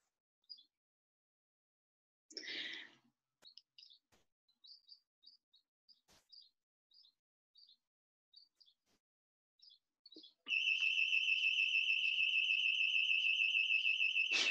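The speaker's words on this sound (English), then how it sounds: "somebody's alarm outside." An outdoor alarm sounds nearby: a loud, steady high-pitched electronic tone starts abruptly and holds unbroken, following a stretch of sparse chirping birdsong and a brief rustle.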